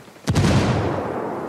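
A frag grenade explodes in the video game Ghost Recon Wildlands, a single loud, close boom with a sharp onset and a long rumbling tail that slowly fades.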